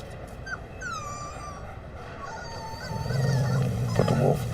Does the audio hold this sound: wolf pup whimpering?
yes